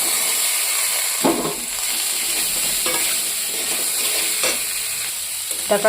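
Vegetable stems fry with potatoes and spices in a pan: a continuous close sizzle with occasional scraping stirs of a spatula, no talk.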